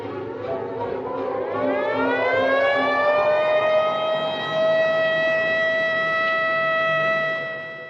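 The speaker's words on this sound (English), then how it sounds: "I want an ambulance sent to the Chicagoan Hotel on State Street." An ambulance siren in a 1952 film winds up in pitch from a low growl to a loud, sustained wail, holding steady before tapering off at the end.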